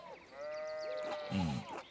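Sheep bleat in the video game Pentiment: a single drawn-out, wavering bleat followed by a lower, shorter one, close and clear with no talk.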